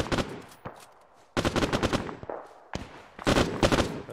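Machine gun fire in a WWII video game mission during the Battle of Narva, three sharp bursts of rapid shots separated by short quiet gaps, close and loud.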